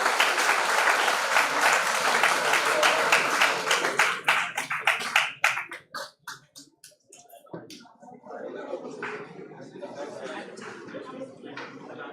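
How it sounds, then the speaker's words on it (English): Applause for the winners at a college project expo valedictory programme, loud dense clapping that thins into scattered claps around the middle, then murmuring crowd chatter and light laughter. "everyone please give a huge round of applause for the winners"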